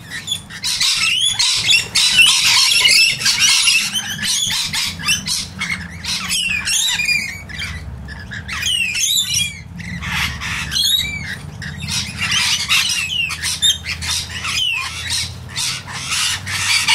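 Rainbow lorikeets at a bird sanctuary screech and squawk loudly in a dense, overlapping chorus of shrill calls, nearly continuous with brief lulls, close by and with no talking.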